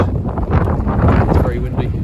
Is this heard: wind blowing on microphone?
yes